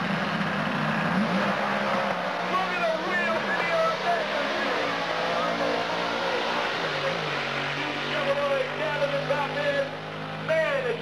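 A 1962 Chevrolet Super Stock drag race car runs with a loud, steady engine roar whose pitch shifts and swells, while an announcer talks over it throughout.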